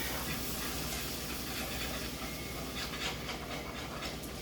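Milk is poured into a hot roux and whisked in gradually, producing a continuous steamy sizzle and hiss with faint stirring underneath, steady and fairly quiet.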